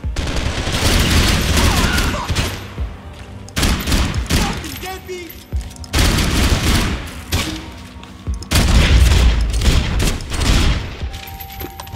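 Heavy gunfire in the shooter Max Payne 3, with repeated automatic bursts and booming shots in several loud waves. A voice can be heard at times under the shooting.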